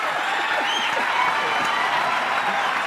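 Studio audience clapping during a Hindi celebrity chat show, a steady dense wash of applause filling the whole moment with no pauses.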